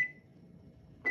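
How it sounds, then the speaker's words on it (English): A microwave oven popping popcorn in a borosilicate popper, heard as a steady low hum with a short high beep at the start and again at the end. "so it's going in the microwave right now"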